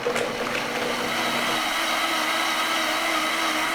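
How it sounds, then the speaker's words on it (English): Blender pureeing a spicy salsa of lime juice, vinegar and black pepper until smooth, a steady close whirring drone that holds level throughout with no pauses. "And then I'm gonna puree these until completely smooth."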